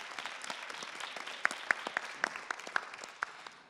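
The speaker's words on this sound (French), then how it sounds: "Merci d'applaudir également Vincent." Audience applause at a French debate panel on optimism and the media, a soft, even patter of many hands with a few sharper, louder claps standing out near the middle.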